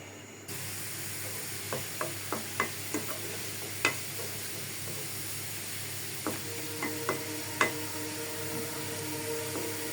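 Onion and garlic frying in oil for a Bengali dal tempering, a soft continuous sizzle with a series of light clicks and taps from a stirring utensil against the pan; no one talks.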